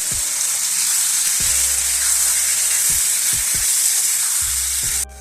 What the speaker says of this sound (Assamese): পিঁয়াজখিনি এনেকৈ অলপ ভাজা হোৱাৰ পিছতে মই তাতে মাংসখিনি দি দিম।